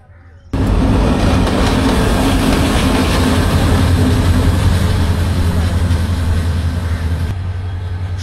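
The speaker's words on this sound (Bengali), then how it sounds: "আবারও এই ট্রেনে করে এখন ফিরে যাব চট্টগ্রাম" The Nazirhat local train on the Chattogram line runs at speed, a loud, steady rumble and rattle of rail cars starting abruptly and holding for several seconds before easing slightly.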